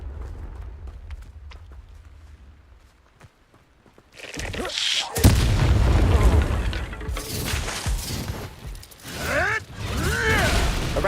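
Confringo blasting curse from the video game Hogwarts Legacy, heard as a sudden loud burst that gives way to a sustained crackling blast and rumbling debris, after quieter footsteps and a shouted spell.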